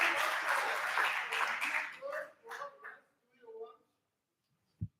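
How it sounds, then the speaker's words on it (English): Audience applause at a lecture rises as a dense wash of clapping that fades out after two seconds, followed by brief voices and a single sharp knock. "Why do you clap your hands?"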